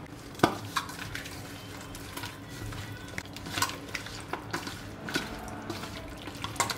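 Chicken pieces are mixed by hand with an egg and a little arrowroot, giving soft wet squelching and slapping sounds in an irregular rhythm, with occasional sharper taps, close and moderately quiet.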